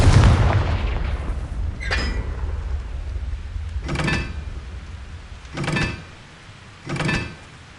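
Explosions from the Confringo blasting spell in Hogwarts Legacy on PS5 land as a heavy opening boom followed by four sharper bursts spaced about two seconds apart, each with a rumbling decay, and no voices.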